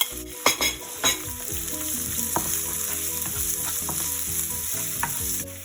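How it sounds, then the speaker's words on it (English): Finely chopped garlic fries in hot oil with a continuous bright sizzle, and a few sharp clanks of stirring come early on, close and steady. "oil heat, then add finely chopped garlic"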